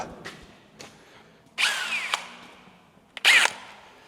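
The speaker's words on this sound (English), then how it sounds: "Right, that's all those drilled out." Power drill drilling holes on a Scania R580 V8 truck: two short loud whirring bursts with pitch rising, close, separated by quieter gaps with faint clicks.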